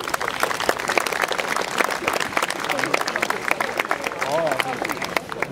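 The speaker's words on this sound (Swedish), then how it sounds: "Så tar vi en stor applåd för alla de sex bäst placerade i loppet." Crowd applause at a prize ceremony for a running race, loud, dense clapping with sharp individual claps and brief cheering voices mixed in, continuing for several seconds.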